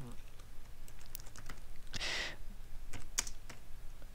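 Keys tapped on a computer keyboard during work in Excel 2013: scattered clicks and short bursts of close, light typing, with a slightly longer cluster near the middle over quiet room tone.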